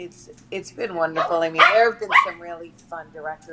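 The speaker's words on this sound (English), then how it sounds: "Sorry for my dogs." Dogs bark and yip in the room behind someone talking, sharp short barks scattered through her speech at close range.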